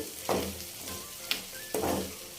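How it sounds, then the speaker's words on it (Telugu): Goat tripe (boti) fries in oil, giving a continuous close sizzle broken by three sharp popping bursts. "ఈ బోటి అనేది ఫ్రై చేసేటప్పుడు కొంచెం టపా టపా అని పేలుతూ ఉంటుంది"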